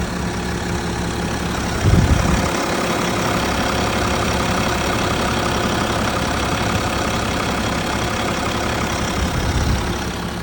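A 2014 BMW X5 F15 with a 3.0-litre diesel engine idles steadily and loudly up close, a constant low rumble with light knocking texture and a couple of brief heavier thumps.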